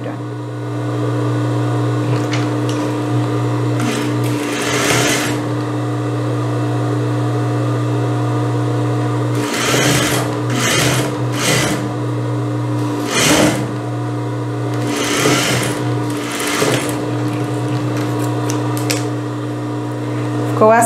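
A sewing machine stitches a seam joining two pieces of a blouse, right sides together, with a steady close mechanical whir running throughout, broken by short bursts of clatter and handling noises while someone talks.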